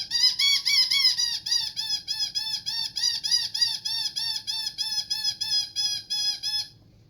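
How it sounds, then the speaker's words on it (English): An MCO squirrel call worked by barely inhaling through it gives a steady run of sharp, high chattering squawks in a quick regular rhythm, close and loud, lasting about seven seconds before stopping abruptly. "Just barely inhaling into the call with the least little bit of air."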